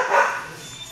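A dog doing tricks such as sitting pretty and weaving through pylons gives a single short, sharp bark or yip, close and fairly loud, with no talk.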